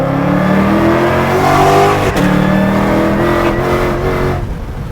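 Supercharged E85-fuelled 2020 Shelby GT500 tuned past 1000 hp, its engine roaring loudly and steadily under acceleration with rising harmonic tones, a brief shift-like break midway, then easing off toward the end.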